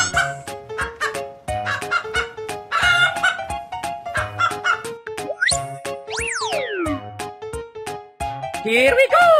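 Cartoon chicken clucks and gobbling fowl calls in a busy children's animal game soundtrack, with springy boing effects and sliding tones mixed among the bird sounds.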